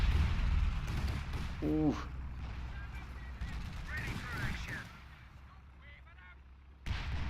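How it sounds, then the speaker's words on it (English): Artillery fire in the World War II strategy game Battle for Caen: a run of heavy booming blasts and rumbling impacts, fairly loud, with a brief vocal exclamation over the barrage. "Oh, massive artillery going down."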